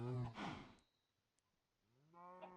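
Two cow moos from a video game cow, one at the start and a second rising at the end, separated by a near-silent gap, with no talk.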